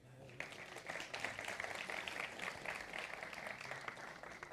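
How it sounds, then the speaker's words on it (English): Audience applause at a tech talk during a conference session, a steady, fairly faint wash of clapping lasting several seconds. "A round of applause for my friend."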